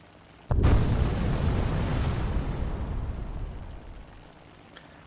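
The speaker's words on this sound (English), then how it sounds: "I didn't get any kind of damage count from that torpedo hit" A torpedo strikes a ship in a naval video game, setting off a sudden loud blast followed by a long rumbling roar that slowly fades over several seconds.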